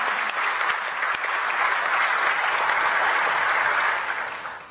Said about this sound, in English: I think we need to clap for Azza Al-Kubaisi.